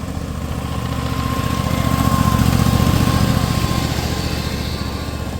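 A small gas-powered ride-on locomotive engine runs steadily on a hobby track, a buzzing, lawn-mower-like drone that swells slightly in the middle and stays close and continuous throughout.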